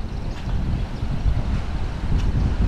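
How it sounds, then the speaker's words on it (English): Gusty wind at Thornton Beach in tropical North Queensland, a loud continuous rumbling roar buffeting the microphone with slight surges and no speech. "How's that for some wind? Man, it's even more gusty than last time."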